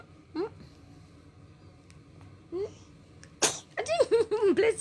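A three-month-old baby sneezes, with small sneeze sounds at the start and loud squeals and giggles near the end, all close to the microphone.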